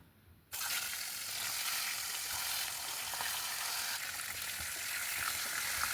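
Fish heads deep-frying hard in hot oil for a Bengali muri ghonto dish, giving a steady loud hiss and sizzle that starts abruptly after a brief quiet moment and continues evenly without talk.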